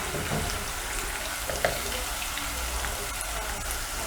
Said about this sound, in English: So our onions are cooking, as you can see, and they are almost ready.